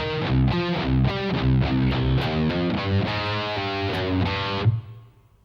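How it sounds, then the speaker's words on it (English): A distorted electric guitar plays the closing bar of a song: choppy, rhythmic palm-muted chords and single notes, then a final chord that rings and fades out. "So the final bar with guitar 2 will sound like this."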